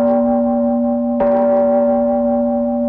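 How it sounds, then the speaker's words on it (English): A single struck gong rings out loud and close, its long sustained tone carrying on from the start, then a second strike at about one second blooms and hums on, one stroke of a 21 gong salute. "21 gong salute."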